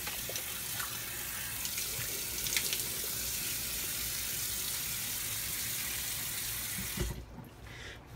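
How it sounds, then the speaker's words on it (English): Tap water runs steadily into a sink as a face is wetted before a shave, a continuous close rush that cuts off near the end, with no talk. "So let me go ahead and wet my face."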